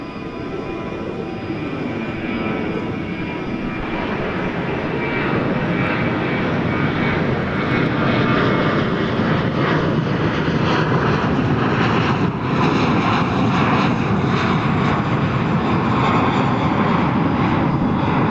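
An American Airlines jet rolling for takeoff at DFW Airport, bound for McAllen, Texas, lets out a loud, continuous engine roar that builds steadily and holds without pause.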